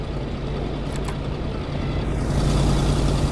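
A car engine idles at a fuel station in the game Kona, a steady loud rumbling hum that swells slightly near the end, with no speech.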